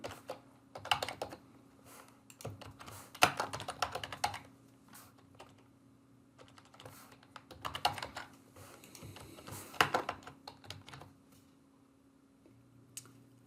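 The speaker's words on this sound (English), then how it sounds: "If I could type." Typing on a computer keyboard, with bursts of close, quick key clicks separated by short pauses, no talking.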